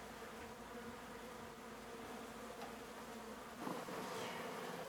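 Honeybees buzz inside transport boxes on a homestead as they wait to be moved into hives. The buzzing is a dense, steady swarm drone, continuous and close, with a slight swell near the end and no voices.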